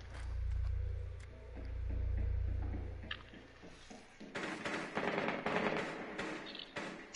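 Gunfire in Rainbow Six Siege: after a low rumbling hum, a flurry of close, rapid shots and impacts breaks out, dense and uneven, lasting several seconds at moderate loudness.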